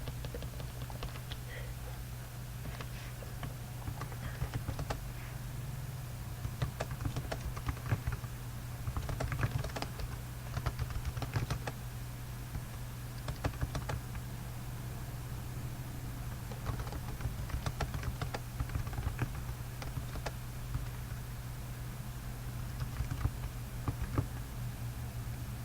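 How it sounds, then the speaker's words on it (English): Typing on a computer keyboard, a quiet, irregular patter of key clicks over a steady low hum, continuing throughout with short pauses. "So let's go ahead and type that in for clarity."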